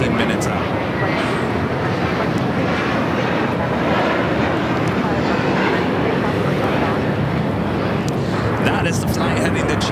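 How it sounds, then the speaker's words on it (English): An Airbus A321 jet on flight 238 to JFK roars continuously at Los Angeles airport, a loud, dense engine rumble with no breaks, overlaid by speech. "That is the flight heading to JFK, flight 238 on that A321"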